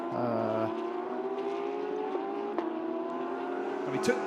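GT race cars, including a Ferrari and a BMW, racing at Mandalika, heard as a steady engine drone with a rising pitch, brief clicks, and a sharper burst near the end.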